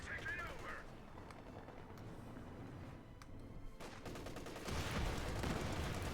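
Machine gun and other gunfire in the Company of Heroes 2 strategy game, faint clattering bursts and shots spread over several seconds of low battle noise, with the firing thickening toward the end.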